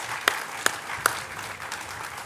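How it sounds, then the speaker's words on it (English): An audience at a grand opening of a care facility claps: a few sharp, distinct claps stand out over a softer wash of scattered applause, fairly faint and brief. "Let's give them a warm round of applause and thank them very much."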